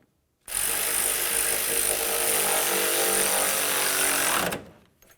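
A power tool, likely an impact driver, runs continuously for about four seconds while tightening radiator mounting bolts on a 2000–2005 Buick LeSabre. It gives a loud, close, sustained buzzing hammer that starts and stops abruptly.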